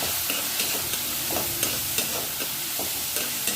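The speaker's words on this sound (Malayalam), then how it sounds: "ഞാൻ അതും കൂടി ചേർത്തിട്ട് ഒന്നും കൂടി വഴറ്റിക്കും" Masala with chopped ginger and garlic being sautéed in a pan, a steady sizzle broken by regular scraping stirs of a spoon roughly every half second, close and fairly quiet.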